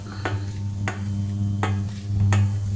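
A wooden spoon presses tapioca starch dough flat for a flatbread, giving four evenly spaced soft taps over a low steady hum, close and fairly quiet.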